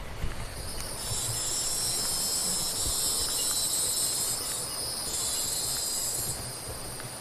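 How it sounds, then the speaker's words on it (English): Cicada buzzing in a Florida nature area at Juno Dunes, a loud continuous high-pitched drone that holds steady for several seconds before easing off, with faint rustling and footsteps below. "And I think that was a cicada, yeah."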